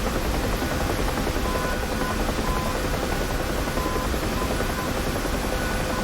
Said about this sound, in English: prepare to see your first helicopter crashes